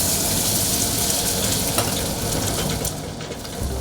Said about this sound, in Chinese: 将产销履历的鲜鸡蛋倒进热锅中，仔细掌握火候，慢慢煎出微微焦香。